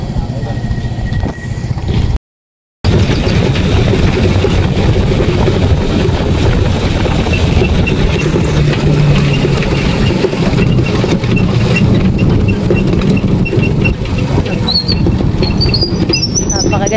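Tricycle and motorcycle engines run steadily throughout a ride on a hilly road, with a constant low rumble, wind buffeting the microphone and a voice talking over it.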